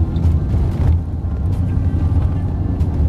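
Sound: car driving

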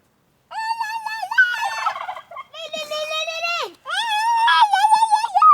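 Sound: turkey gobbling

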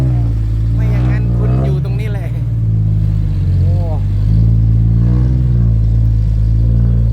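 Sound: car engine revving at full throttle on a muddy track

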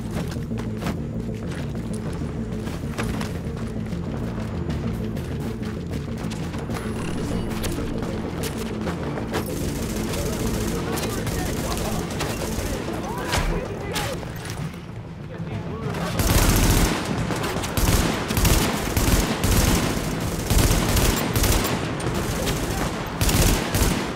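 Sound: gunfire in the video game The Division

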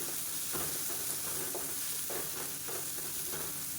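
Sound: stir-frying green chillies, pepper and cumin in a pan

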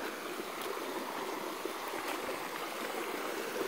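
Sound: spring-fed creek flowing

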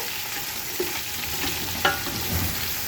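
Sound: sautéing plenty of onions in oil for khichuri

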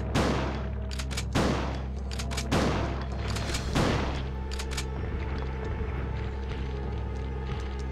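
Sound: gunfire from shooting a regenerating enemy in video game Resident Evil 2

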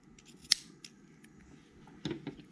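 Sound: scissors snipping yarn

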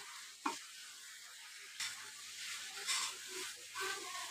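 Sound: potatoes being stirred while roasting in a pan

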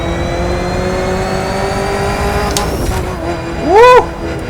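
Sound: Ford GT muscle car exhaust in video game The Crew 2

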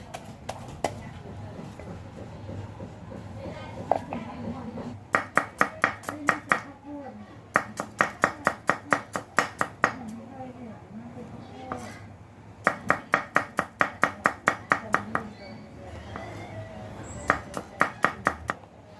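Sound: pounding curry paste with shrimp paste in a mortar

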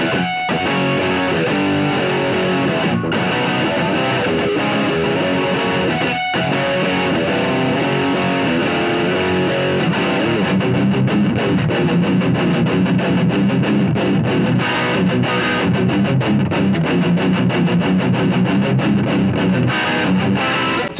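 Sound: distorted electric guitar

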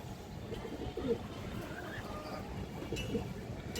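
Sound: female Khoragola pigeon cooing

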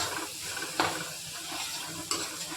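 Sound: tomatoes being roasted and stirred in a pan

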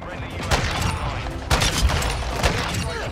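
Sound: sniper rifle gunfire in a video game

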